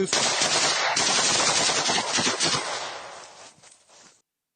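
A long burst of automatic gunfire plays from a video of an execution. The rapid shots run for about four seconds, loud and close, then fade out.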